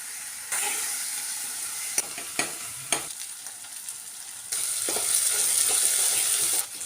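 A sizzling tempering for saag in a pan: a steady hiss with a few sharp stirring clinks and scrapes, then a louder, brighter sizzle as the greens go in and are stirred. No one speaks.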